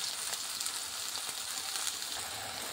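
Eggplant pieces seasoned with salt and turmeric frying in a pan, a dense, even hiss of oil sizzling steadily throughout with small crackles and no talk.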